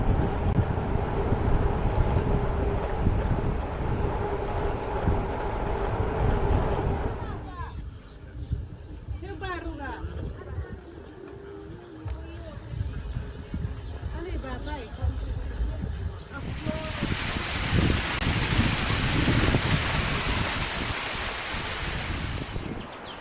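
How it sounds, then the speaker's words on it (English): Wind gusting through bamboo on Flores, a continuous rushing roar with rustle, rising and easing before a strong blustery surge near the end; microphone buffeting throughout. "Wind in the bamboo."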